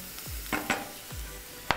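Chopped onion going into a hot pan with heated oil for broccoli cream soup, giving soft sizzling with a few scraping stirs and spoon taps, quiet and close with no talk.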